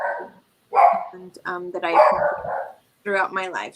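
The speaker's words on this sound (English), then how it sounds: "the dog barks every time you're talking." Dog barking in short repeated bursts between and under a person's speech, moderately close, recurring several times across the stretch.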